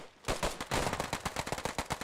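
Gunfire in Post Scriptum, a World War II tactical shooter, in a competitive match: a rapid run of sharp, fairly faint shots in quick bursts, some overlapping like automatic fire, with no talking.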